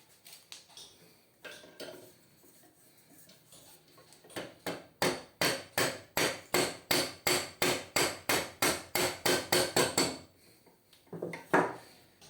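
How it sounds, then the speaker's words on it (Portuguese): Hammer tapping a bearing into place on a Samsung air conditioner motor: a fast run of about twenty sharp metallic taps in even rhythm, close and clear, with quieter scraping handling before and after. "eu vou ter que dar umas batidinhas ali, da mesma forma que eu tirei, só que o inverso"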